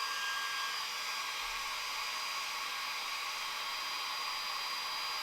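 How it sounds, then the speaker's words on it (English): An upturned can of compressed air blasts onto heated lacquer on a guitar body, giving a steady, loud, hissing rush that holds unchanged throughout. "I then take a can of compressed air, turning it upside down,"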